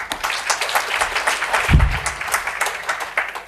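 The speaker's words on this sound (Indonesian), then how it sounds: "Beri tepuk tangan, saudaraku." A church congregation claps in response to a preacher, a short burst of loose, uneven applause from a moderate crowd with a single heavy thump partway through.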